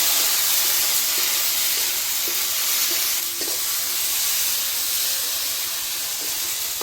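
Garlic and ginger paste fries in a pan with a dense, constant hiss and sizzle, punctuated by soft, regular stirring taps, close up and with no speech.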